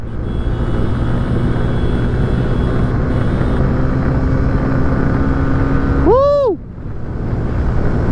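A motorcycle ridden on a mountain road makes steady, loud engine and wind noise up close. A rising then falling whine, like a horn or passing vehicle, cuts in briefly before the noise dips.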